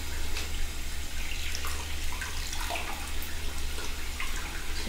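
Tap water running steadily into a sink while hands are washed, a continuous soft hiss with faint splashing and patter, fairly quiet and without speech.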